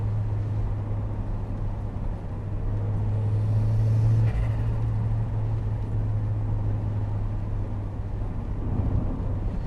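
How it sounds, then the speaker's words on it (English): Turbocharged Mk1 Mazda MX-5 engine heard from inside the cabin on a wet drive, a steady droning hum that swells briefly mid-way before settling, with constant road and tyre wash underneath. "it's inside the cabin of a turbocharged Mazda MX-5"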